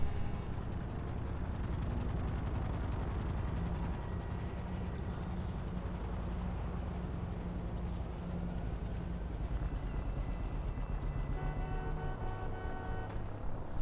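Video game helicopter gives a continuous, fairly loud rotor thrum with rapid chopping pulses and a droning engine whine that shifts slightly in pitch toward the end.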